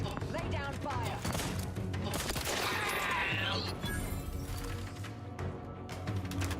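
Sustained bursts of gunfire in the video game The Outer Worlds 2, rapid shots and impacts layered over dense game effects and music, with voices speaking over the combat.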